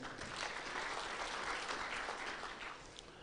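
Steady, dense applause from a conference audience at a regional policy conference, a continuous even wash of many hands clapping with no voices over it.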